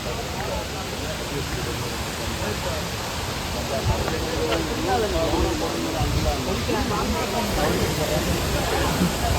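Waterfall in the forest at Kundala, Munnar, rendered as a steady, broadband rush of falling water close by that is loud and unbroken throughout, with faint voices mixed in.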